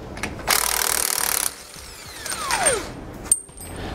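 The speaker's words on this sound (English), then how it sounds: "when you remove this one, you're going to have to put your wrench at an odd angle to get a hold of it" Ratcheting wrench loosening bolts on the steering stabilizer plate of a 1999 Freightliner truck: a dense burst of clicking, then a sliding metallic scrape and a sharp click, close and fairly loud.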